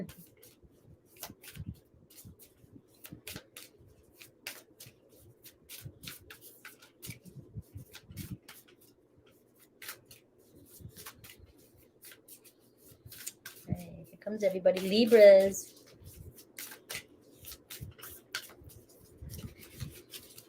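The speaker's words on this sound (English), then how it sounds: "Let me shuffle one more time." Tarot cards are shuffled during a reading, giving soft, faint rustling and light clicks with a louder flurry of shuffling near the end, mixed with a person talking quietly.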